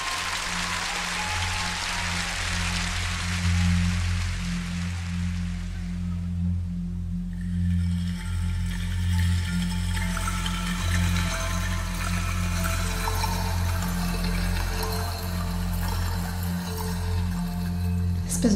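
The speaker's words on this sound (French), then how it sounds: "Espèce de bâton de pluie, de cloche." Song intro with a rain stick's rushing, trickling hiss that fades out, followed by chiming bell-like tones and a low pulsing drone like a deep heartbeat underneath.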